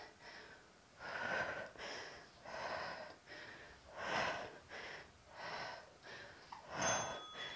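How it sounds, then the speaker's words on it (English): A person breathes heavily through a home workout, about ten loud, rhythmic, rasping breaths at a steady pace, close to the microphone and with no talking. "Focus on your breathing."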